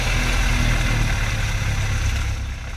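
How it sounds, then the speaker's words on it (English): A Super Decathlon aerobatic airplane's engine runs steadily at idle after starting, with a low, throbbing drone and faint rattling overtones, loud and close, easing slightly toward the end. "Starter engage, release after engine fires."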